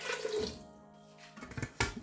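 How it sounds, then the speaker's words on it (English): Water pours into a pressure cooker over ukwa, an African breadfruit, a steady rushing splash that trails off and ends in a few clinks and a final knock. "I just need to pour water 1 inch above the level of the ukwa"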